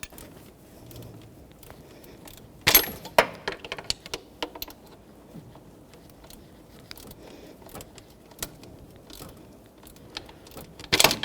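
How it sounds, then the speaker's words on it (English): A seized, corroded bolt on the alternator of a 2014-2019 Toyota Corolla is turned under pressure, giving sparse, close metallic clicks and clanks with quiet gaps, including a sharper burst of clatter near the start. "I'm just going to turn this bolt while I put pressure on it."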